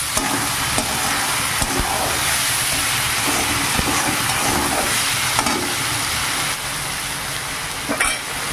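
A ground cumin and coriander spice paste sizzles steadily in a hot pan for a soybean curry while it is stirred, with occasional scraping clinks over the continuous close frying hiss.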